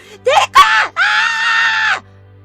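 A child screams close and loud, two short shrieks followed by a longer sustained high wail that cuts off abruptly.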